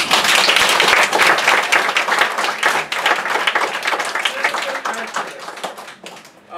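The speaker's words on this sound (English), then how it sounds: "So I want to give her a round of applause." A crowd applauding at a congressional community meeting, loud and dense clapping from many hands that carries steadily for several seconds before tapering off abruptly at the end.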